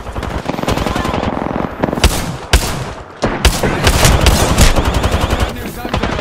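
Rapid automatic gunfire in the battle royale game Apex Legends, with loud, dense bursts and sharp individual shots rattling almost continuously, briefly broken by a short pause before firing resumes.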